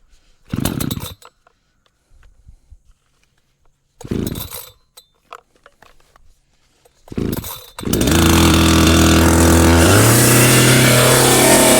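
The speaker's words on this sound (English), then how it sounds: "The saw to warm up." A chainsaw used for hydraulic wood splitting work is pull-started in three short bursts, then catches and runs loud and steady at a high idle as it warms up, close by with no talk.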